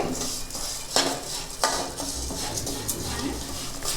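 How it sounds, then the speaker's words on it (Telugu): Vermicelli is fried and stirred in a pan until reddish-golden for jaggery sago-vermicelli payasam: utensils clink and scrape against the pan over a light, continuous sizzle. "కొంచెం సేమియా కూడా ఎర్రగా వచ్చిందాక వేయించుకుందామండి"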